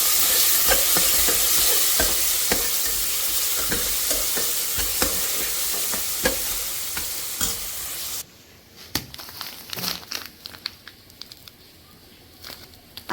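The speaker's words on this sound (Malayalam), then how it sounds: "ഇത് രണ്ടും കൂടി ഇനി നമുക്ക് നേരിട്ട് നമ്മുടെ കുക്കറിൽ വെച്ചിട്ട് കൊടുത്തിട്ട് നന്നായിട്ടൊന്ന് ഇളക്കി കൊടുക്കാം" Green chillies and onion stirred in a pressure cooker, a loud sizzling fry with repeated spoon scrapes against the metal; the sizzle drops off sharply partway, leaving quieter irregular clinks and scrapes.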